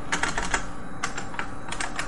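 Quick, uneven keystrokes clatter on a computer keyboard, close and clear, in short bursts with brief pauses and no talking.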